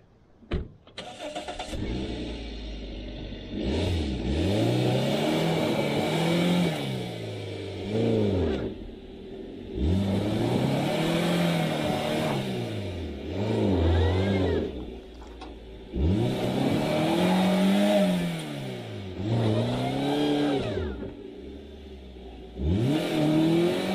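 A car stuck in mud has its engine revved hard in four long surges, each rising and falling in pitch, with short idling pauses between and a clunk at the start, close and loud.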